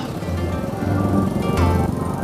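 A car passes close by on a busy Bumiayu market road, its engine droning loudly amid the noisy street, with a brief sharp rattle as it goes past.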